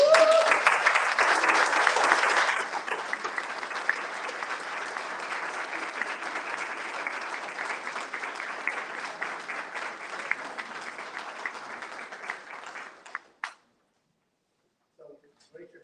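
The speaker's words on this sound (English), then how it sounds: "please stand so we can give you a round of applause" Parents, guardians and friends at a school district meeting receive a long round of applause, steady and dense for about thirteen seconds before cutting off into near silence.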